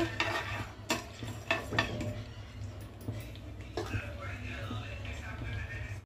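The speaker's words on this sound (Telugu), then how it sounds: "తాలింపు గింజలు బాగా వేగాలి." Mustard and other tempering seeds fry in hot oil in a kadai while a spoon stirs them, giving steady scraping clinks over a low continuous sizzle with a constant low hum underneath.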